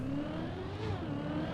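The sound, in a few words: rear-engine front-wheel-drive car engine in Trackmania video game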